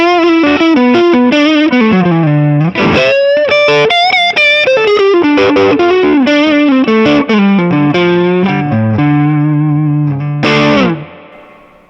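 PRS McCarty 594 Hollowbody II electric guitar in satin nitro finish, played on the neck humbucker with distortion: a thick, rolled-off lead line of sliding and bending notes, loud and sustained, with no talking.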